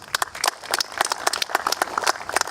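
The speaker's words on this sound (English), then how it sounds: "I want to give you all a big round of applause" Outdoor applause from a crowd at a fire station groundbreaking, uneven individual claps close by and moderately loud, steady for a few seconds with no talk over it.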